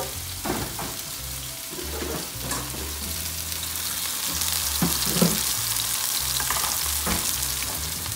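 Spaghetti cooking in a pot on the stove, a continuous close bubbling and sizzling wash with occasional louder bursts and low rumbling, no talking.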